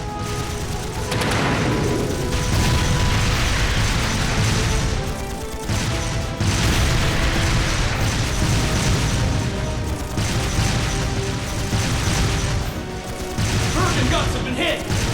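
Heavy explosions and crashing impacts as the Bergen guns are struck during a battle in Trails of Cold Steel II, a dense, loud barrage of booms and bursts running almost continuously, with brief dips between blasts.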